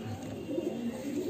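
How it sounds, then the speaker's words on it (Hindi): A captured pigeon coos softly in a low, rolling murmur, close by, with faint voices around it. "देखिए ये कबूतर हमने पकड़ा है"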